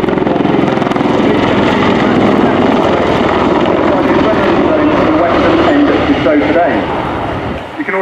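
An Apache AH1 attack helicopter's engine and rotors roar steadily and loudly throughout, close by, with a slight dip near the end, at an air show display.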